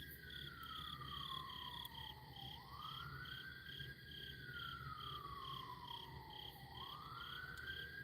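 Distant emergency sirens wail at night in long, slow rising and falling sweeps, faint beneath a steady chorus of frogs and insects trilling close by.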